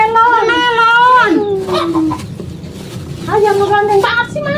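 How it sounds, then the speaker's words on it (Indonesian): A chicken or rooster at a rural Sundanese village house lets out loud, drawn-out clucking calls close by, two long strained bursts separated by a quieter gap filled with scratchy voice-like sounds. "Ayam lu ganteng banget sih mah ayam."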